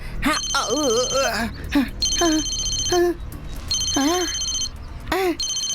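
A telephone bell rings in repeated bursts on a school campus while people talk loudly over it, the ringing recurring about once a second.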